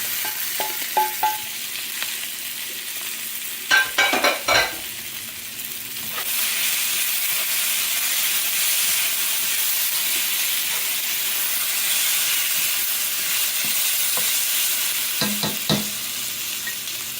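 Grunt fish frying with peppers and onions, stirred in a pan: scraping and clattering bursts over a loud, steady hiss of sizzling oil that swells midway and stays close.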